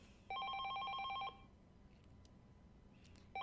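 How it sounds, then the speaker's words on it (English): A telephone rings in a rapid electronic trill, one sharp burst about a second long, then quiet room tone before the next ring begins at the very end. "the ringing phone broke his train of thoughts"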